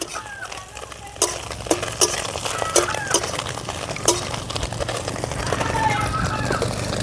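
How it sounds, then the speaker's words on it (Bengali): Small river puti fish tossed with crushed garlic in a pan for a village-style bitter greens curry, with a spatula scraping and clinking repeatedly against the metal over a faint sizzle, close and fairly loud; a voice speaks intermittently. "এবারে আমি মাছগুলোর সঙ্গে রসুনের সঙ্গে মিশিয়ে দেবো"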